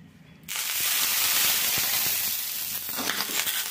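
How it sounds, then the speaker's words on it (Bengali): Water sprinkled onto a hot, oiled dosa pan bursts into a loud, sudden sizzle. The sizzle hisses steadily close by, then settles into gentler crackling with no talk over it. "এবারে আমি এর মধ্যে একটু জলের ছিটা দেব।"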